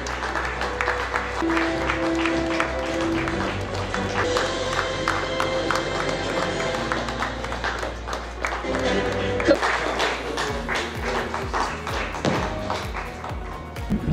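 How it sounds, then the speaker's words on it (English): Audience applause at the ASSOCHAM HR Trailblazer awards ceremony, sustained clapping from a large crowd for over ten seconds. Music and a voice run underneath, with some thumping near the end. "a big round of applause, ladies and gentlemen"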